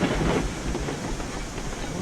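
Train rolling along rails in the video game Railroads Online, a steady loud rumble with rhythmic clickety-clack of the wheels filling the whole stretch.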